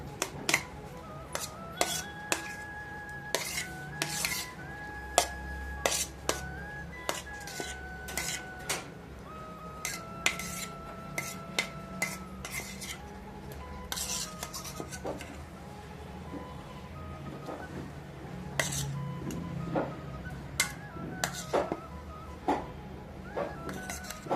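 Watermelon slices being stirred into a nutritious shake in a bowl, a long run of light clinks and taps of a spoon against the dish, irregular and close, over a quiet background.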